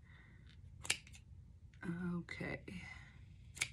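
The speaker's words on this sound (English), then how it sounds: "you're gonna want decently sharp scissors for this" Sharp scissors snip acrylic yarn for pom poms in several quick, crisp cuts, close up, with a soft spoken word and quiet voice in between.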